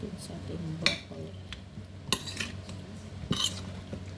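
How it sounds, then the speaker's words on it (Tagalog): Broccoli being sautéed with squid in a pan, with a utensil clanking and scraping against the metal pan in irregular knocks and clinks over a soft sizzle, while a person speaks intermittently. "Simpleng gisa po sa broccoli."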